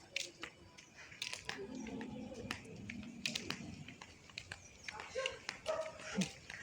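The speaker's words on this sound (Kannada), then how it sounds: "ನೋಡಿ ಫ್ರೆಂಡ್ಸ್, ನಾಯಿ ಎಷ್ಟೊಂದು ನಾಯಿ ಆಗ್ಬಿಟ್ಟು," Street dogs barking and yipping outdoors along a village lane, several sharp barks scattered through the stretch among general street noise and some talk in the background.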